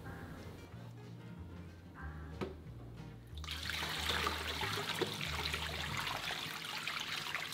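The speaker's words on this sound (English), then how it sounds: "Rinse the napa cabbage in running water until all the salt on the surface has been removed" Running water splashes steadily while napa cabbage is rinsed to wash off salt for kimchi, starting as a faint trickle and then becoming a louder, continuous gush close by, with soft background music underneath.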